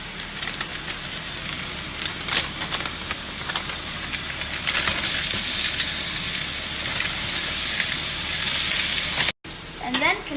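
Thawed shrimp and green peppers stir-fry in a hot pan, giving a continuous loud sizzle with scattered crackles and stirring clatter, close up, ending in a brief cutoff.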